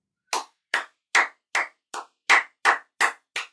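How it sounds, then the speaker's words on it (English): Nine sharp, evenly spaced hand claps from a single pair of hands, close and slow, with silence between each clap, after a WWE 2K23 video game match. "Just a round of applause for my fighters right there."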